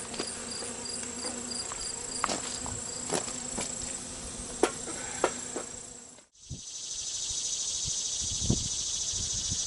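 Honey bees stirred up around their hives make a steady, dense buzz close by, with a few sharp clicks and knocks in the background. Partway through there is a brief cut, then the buzzing returns louder and brighter.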